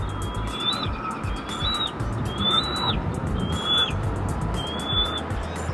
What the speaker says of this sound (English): Bald eagles have very acute eyesight and like to eat fish, smaller birds, and mammals.